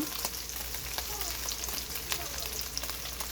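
Ground meat browns in a pan ahead of garlic being added, with a constant close sizzle and crackle broken by small scattered pops and light stirring noises.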